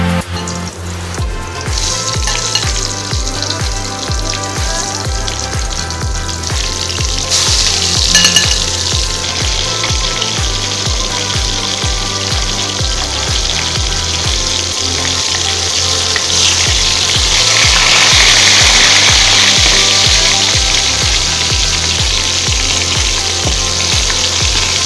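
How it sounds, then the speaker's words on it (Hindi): Pointed gourd (parwal) pieces frying in hot oil in a kadai, a steady close sizzle and crackle that swells louder toward the end, with occasional stirring and no talk. "ऑयल गर्म होने पर एक एक परवल डाल देंगे।"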